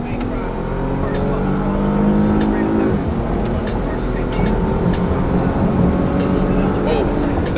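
Car engine revving hard and accelerating fast, a loud, steady roar with rising engine tones that fills the whole stretch, heard from inside the car.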